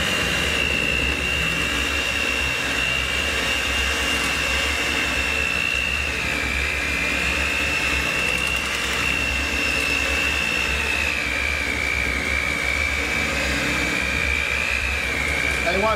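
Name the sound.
electric mixer mixing waffle batter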